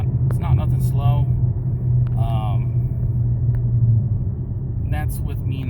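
A Dodge Challenger fitted with a BBK throttle body pulls hard at half to three-quarter throttle, its tires spinning, giving a loud steady engine rumble throughout with brief voices over it.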